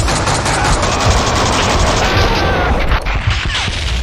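In the 2003 PC game Max Payne 2, gunfire crashes in dense, loud volleys of rapid shots and impacts that blur together into a continuous, near barrage.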